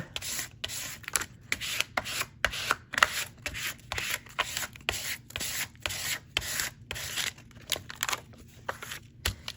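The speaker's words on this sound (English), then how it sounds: "Could always take a gift card and rub." A gift card rubbed firmly back and forth across a folded greeting card, giving steady rhythmic scraping strokes, close and fairly loud, with no voices.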